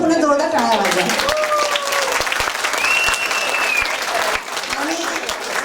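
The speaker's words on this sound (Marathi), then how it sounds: "जोरदार टाळ्या वाजवा" Audience applause at a Marathi school's annual program in Kansas City, a dense sustained clapping from a crowd close by, with a voice and some cheering over it at the start.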